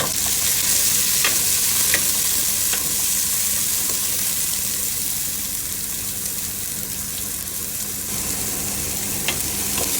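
Garlic and onion sauté in a hot pan as a start to white beans with sardines and Chinese cabbage, a loud, steady hiss and crackle of frying that continues throughout with occasional stirring clicks.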